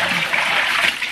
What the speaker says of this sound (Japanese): 海水を捨てます。